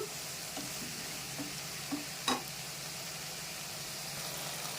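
Chopped ridge gourd and tomato fry quietly in a covered pan, a soft, steady sizzle broken by a few faint clinks, one slightly louder, close by but low in volume.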